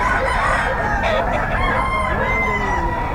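A bull stag gamefowl rooster crows at a market, its call rising and falling across the whole stretch, loud and close over a dense background of other birds and a busy crowd.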